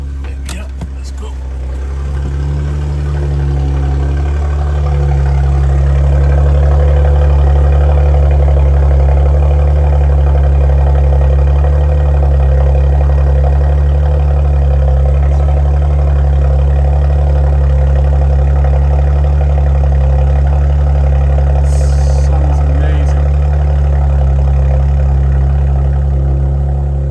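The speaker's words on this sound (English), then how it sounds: "That's the cold start finished with now." Porsche Macan S petrol engine on a cold start with the sport exhaust valves open, a loud, steady, deep idle drone that rises after the first seconds and holds high and even, close up throughout.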